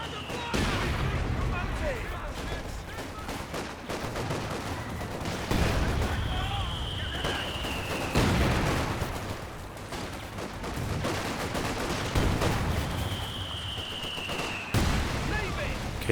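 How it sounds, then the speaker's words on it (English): Mortar half-track incendiary shells and gunfire in Company of Heroes 2, a dense, continuous battle din of rapid crackling shots and booming impacts, with whistling shells passing, under occasional talk. "Incendiary shell from the mortar half-track doing some big damage."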